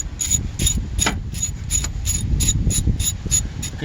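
A ratchet with a long extension and 12mm socket loosening a bracket on a Hyundai Santa Fe engine during a thermostat replacement, giving a rapid, even series of close metallic clicks and pawl rattles throughout, with no voices.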